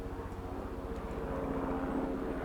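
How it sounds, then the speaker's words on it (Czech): A helicopter flying overhead makes a steady, low engine drone that holds at an even, moderate level throughout, with no one speaking. "Přiletí helikoptéra"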